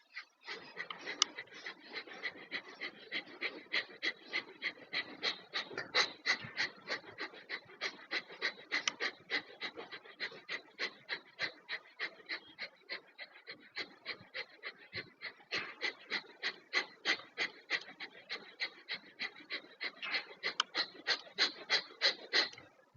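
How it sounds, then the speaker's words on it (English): Forceful Kapalbhati exhalations through the left nostril, a long steady train of sharp rhythmic breath bursts, about two to three per second, close and alone with no talking. "Now we are going to do the normal Kapalbhati on the left nostril. So the breathing in is passive, breathing out is forceful."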